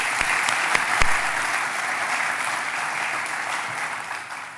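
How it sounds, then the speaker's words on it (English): Audience applause for event sponsors at an architecture honor and design awards ceremony, steady clapping from a sizable crowd sustained for several seconds with a few sharper claps early on. "Everybody, please give them a round of applause."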